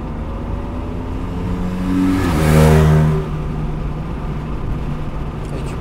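A car accelerates to merge onto an expressway. The engine note climbs through a gear, peaks with a brief shift, then settles into steady road and engine hum, heard from inside the car with voices talking.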